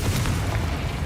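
Confringo, a fire spell cast in Hogwarts Legacy, lands as a loud, close boom, and a thick rumbling blast fills the whole short moment with no voices.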